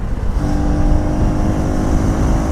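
Husqvarna Vitpilen 250 motorcycle exhaust rumbling steadily and close, a continuous smooth engine drone with a low hum and no break, loud throughout and without talk.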